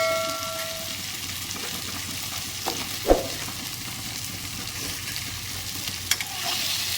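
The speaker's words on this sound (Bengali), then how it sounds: "এই বেগুনগুলো এবার আমি একটু ভেজে নেবো" Cut eggplant frying in oil in a pan after potatoes, for a hilsa fish-head chorchori: a steady, soft sizzle runs throughout, broken by a couple of brief utensil clinks, with no talking.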